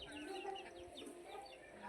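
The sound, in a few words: chickens clucking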